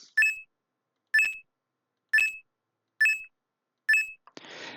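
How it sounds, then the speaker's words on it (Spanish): Five short bright chiming blips at even one-second intervals, like a game coin pickup, followed by a brief burst of noise at the end. "cada vez que se gane una moneda se reproducirá este sonido de moneda"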